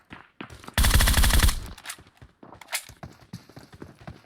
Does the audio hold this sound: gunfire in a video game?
yes